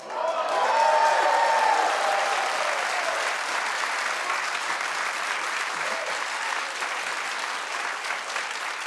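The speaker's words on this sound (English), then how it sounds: "Keep clapping." Studio audience at a daytime talk show applauding loudly, a dense sustained wash of clapping that holds steady across the whole stretch, with a voice briefly heard near the start.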